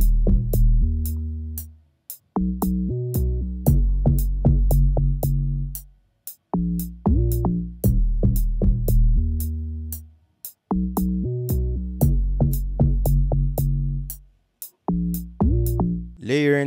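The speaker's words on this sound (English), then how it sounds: "Layering three sounds to get this bass sound." Three layered bass sounds, one of them a log drum, drive an Afrobeat-style beat. Deep, punchy bass notes fall in repeating rhythmic phrases, each note decaying quickly, with sharp clicky ticks on top and short pauses between phrases.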